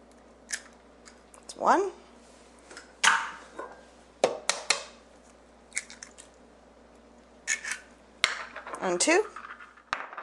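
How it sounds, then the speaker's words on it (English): Two eggs are cracked into wheat-free chocolate chip cookie dough, heard as sharp shell cracks followed by wet squishing and sliding, close up, as a voice counts between them. "We add 2 eggs."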